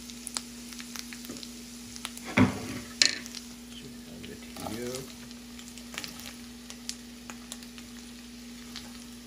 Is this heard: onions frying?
yes